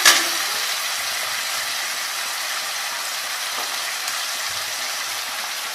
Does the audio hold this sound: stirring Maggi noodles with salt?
yes